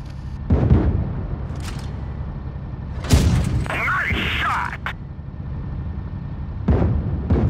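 Tank cannon shots in the World of Tanks Blitz video game, several loud booming blasts spaced across the clip, each with a rumbling tail, under ongoing game sounds.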